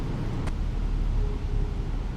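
Interior cab rumble of a Class 175 train in a train simulator game, a steady low droning hum with a brief faint click near the start and a thin tone sliding in later.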